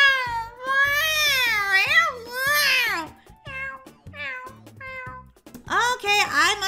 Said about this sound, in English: it looks like a crying baby Kira cat